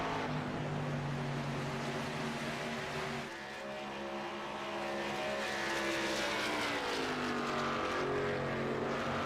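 A K&N series race car engine howls at full throttle at Michigan, a steady loud drone with rising pitch shifts, heard alone without voices.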